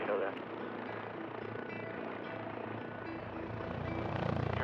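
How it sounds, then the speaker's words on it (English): A Bell XV-15 experimental tilt-rotor aircraft hovers like a helicopter, producing a steady, dense rotor and engine roar that stays constant and fairly distant, with a faint swell near the end. "The XV-15 is an experimental rotorcraft."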